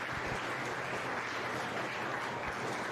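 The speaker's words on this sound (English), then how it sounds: "Please give these intermediate showmen a nice round of applause as well." Audience applause at a county meat goat show, a steady, fairly faint wash of clapping that stays even throughout with no talking.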